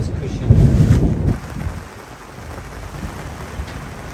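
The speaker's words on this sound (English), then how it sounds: "the storm was short, but intense" A deep rumble of thunder rolls for about a second over a sailboat at anchor, then fades into a low steady wash of storm noise and rain.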